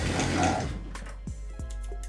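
A sewing machine stitches a blouse sleeve, a dense rapid whirring run up close for the first second, then stopping into quieter handling clicks and faint taps.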